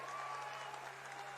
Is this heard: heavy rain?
no